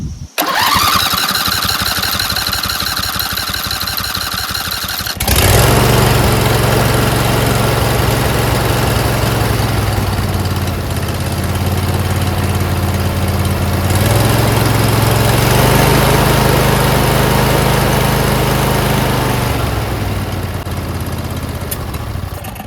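Briggs & Stratton V-Twin engine with new pushrods, head gaskets and carburetor, cranked and started on choke at half throttle, then running loud and close with a steady droning hum and slight shifts in pitch.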